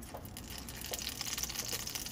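Steady hiss and crackle of water thrown onto a hot griddle, continuous and fairly close, with no talking.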